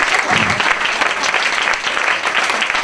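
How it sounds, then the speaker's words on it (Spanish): Audience applause at a talk on artistic actions from the periphery, a dense, even clapping from a sizable crowd that holds steady throughout, with no voices heard. "Aplaudir, por favor."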